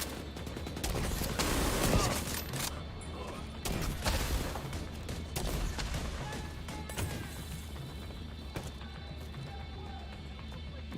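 Gunfire and combat in The Division 2: scattered gunshots and impact bangs crackle through a noisy, chaotic firefight. The action is densest early on and then stays steady at a moderate distance.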